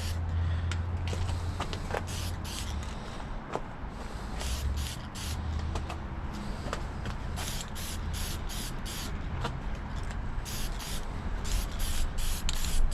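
Aerosol spray paint hissing onto a car dash pad from a Chevrolet Caprice, in steady repeated bursts with brief pauses over a constant background hum, fairly close and moderately loud.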